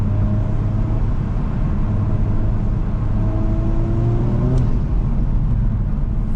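A Honda Civic Type R FL5 accelerates hard from inside the cabin on a road in Japan, engine note rising steadily through the revs under loud road and wind roar, then a brief shift.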